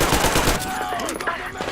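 Gunfire in the video game Metro Exodus: a short, dense burst of rapid machine gun shots, loud and close, over a noisy cinematic background.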